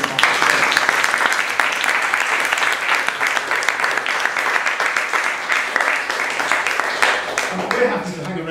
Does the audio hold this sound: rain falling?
no